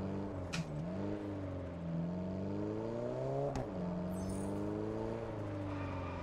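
A car driving in Test Drive Unlimited Solar Crown, a steady engine drone rising and falling with gear shifts, punctuated by brief sharp clicks and a jolt, fairly quiet with no speech.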